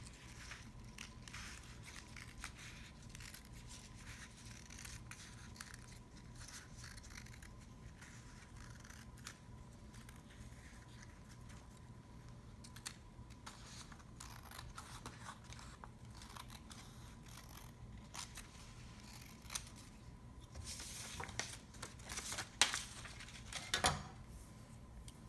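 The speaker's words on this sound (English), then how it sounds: "go ahead and cut my excess paper off so I can hold my paper better." Scissors snipping away excess paper during a collage art lesson, faint scattered cutting clicks over a steady quiet room hum, growing a little louder and crisper near the end, with no talk.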